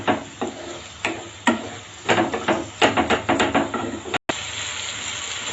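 Ginger and garlic paste sautéing in a pan, stirred with a spatula that knocks and scrapes in a steady rhythm over a soft sizzle, close and fairly loud, with no talking.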